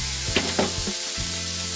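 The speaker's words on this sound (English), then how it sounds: "Add a little bit of oil to your cooking surface and then get your steak on" Steak sizzles loudly in oil on a hot cooking surface as it is stirred about, a dense frying hiss broken by short scraping bursts where the meat is pushed around.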